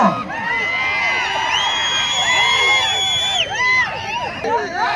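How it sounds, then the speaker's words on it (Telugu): A large outdoor crowd at an Ongole bull cart-pulling contest in Yemmiganur whistles sharply, claps and cheers. The noise is loud and continuous, with shrill whistles rising over steady roaring applause and shouts. "రైతు సోదరులారా ఒక్కసారి ఈలలో చప్పట్లు కేకలు కేరింతలు"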